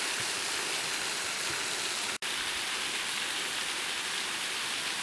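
A waterfall at Pikes Peak above the Mississippi River pours in a steady, dense hiss of falling water, constant and fairly close with no voices, broken only by a momentary dropout.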